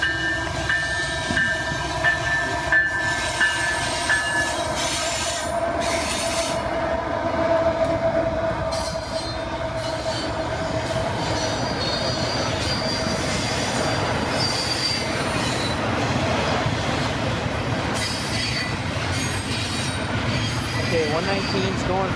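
A freight train with a mid-train DPU locomotive and a do-not-hump boxcar rolls steadily past up close, wheels squealing and railcars clattering over the rails, with wind noise and a voice briefly audible over the rumble.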